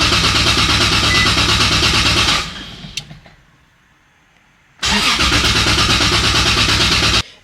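A 2JZ-swapped 370Z Nismo roars loud and steady, cuts off into near silence with a faint click, then restarts and runs just as loud and close.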